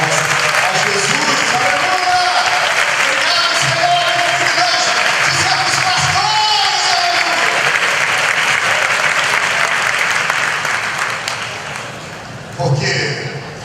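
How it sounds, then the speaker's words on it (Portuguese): A church congregation breaks into strong, sustained applause for Jesus, dense clapping filling the room with voices mixed in, thinning out near the end before a brief final burst. "eu creio que você vai manifestar-se isso com uma forte salva de palmas a Jesus"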